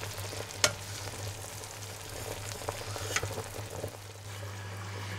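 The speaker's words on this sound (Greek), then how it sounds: "Ο χυμός έχει αρχίσει να βράζει." Soft bubbling and sizzling of quince juice boiling in a pot for jelly, with an occasional sharp clink of a utensil and a steady low hum.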